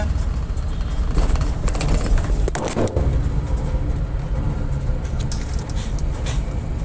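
Vehicles rush past on a bypass highway, a loud continuous roadside rumble with a few heavier whooshes of passing traffic, close and steady, no speech.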